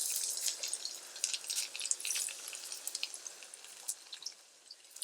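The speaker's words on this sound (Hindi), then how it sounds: "अब इसमें मैं ये प्याज लहसुन फ्राई करूँगी" Garlic fries in about two spoonfuls of oil in a pan, a light crackling sizzle with scattered sharp pops that gradually thins out and grows quieter.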